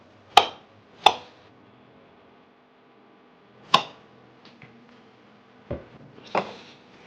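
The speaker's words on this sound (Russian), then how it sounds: "Сейчас картошку порежем и туда же все в суп выкинем." Knife strikes on a cutting board while potatoes are cut for solyanka soup, a handful of sharp, separate chops spaced irregularly with quiet gaps between them.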